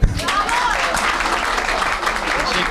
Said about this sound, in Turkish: eğer dinliyorsanız bendeyseniz bendeyseniz bir alkış duyayım